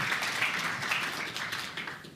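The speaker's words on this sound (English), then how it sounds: "Let's give him a round of applause." Audience applause greeting a water-management specialist coming on stage at a green-technology conference, a steady dense patter of clapping held at moderate level for about two seconds with no talk.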